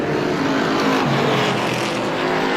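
Stock cars in a Strictly Stock feature race at Star Speedway roar steadily down the back straightaway, a dense, continuous engine drone with no voices.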